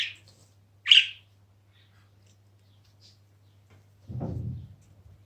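A pet budgerigar gives two short, high chirps near the start, close and clear over a low steady hum, followed by a muffled handling rumble.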